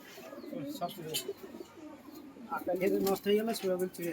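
Pigeons cooing nearby in soft, throaty repeated calls that come in uneven bursts, with a human voice or two talking close by.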